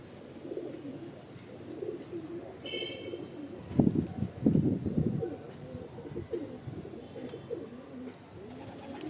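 A breeding pair of Kalanka pigeons coos softly in a loft, low throaty calls that swell to a louder cluster in the middle, with faint background hiss and a brief higher chirp.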